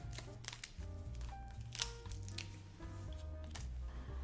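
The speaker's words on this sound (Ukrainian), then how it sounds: "Досить щільна міцна упаковка пакет добре згинається, нічого не рветься." A dense medicine package pouch is bent and handled up close, giving crinkly rustles and soft crackles in irregular bursts, fairly quiet.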